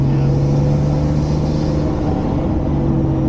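A W Motors Lykan hypercar's engine drones steadily under load while climbing a mountain road, a loud, continuous close-up note with a sustained low tone that dips briefly mid-clip, with no talking.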